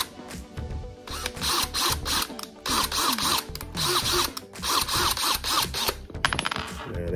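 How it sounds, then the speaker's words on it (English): A screw being driven into a GoPro hat mount, with close mechanical ratcheting clicks and grinding turns in repeated bursts separated by short pauses, and no talking. "That screw is ran in there."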